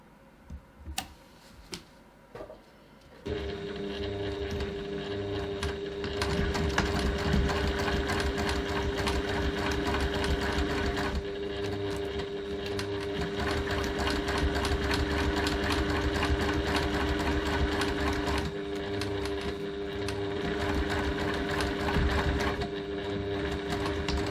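A sewing machine stitches steadily close to the fold of a pocket, a continuous mechanical whir with rapid ticking that runs for about twenty seconds after a few handling clicks and brief pauses.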